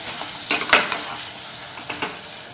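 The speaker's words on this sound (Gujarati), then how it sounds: "હવે તુરિયાને આપણે આ જ રીતે એક મિનિટ માટે ચડવા દેવાના છે" Ridge gourd (turiya) with patra cooks in a pan for a green curry, giving a steady close sizzle broken by a few sharp stirring scrapes, with no talking.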